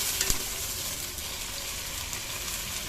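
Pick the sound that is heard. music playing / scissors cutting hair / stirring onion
stirring onion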